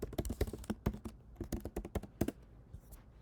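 Close, crisp keystrokes on a computer keyboard enter a port number as a quick burst of irregular taps. The typing thins out toward the end, leaving quiet room tone.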